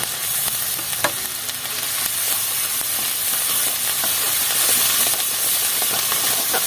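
Onion paste and ginger-garlic paste sizzle in hot oil with a loud, dense, steady hiss and crackle, close up and continuous, with a few light clinks of utensils and no talking.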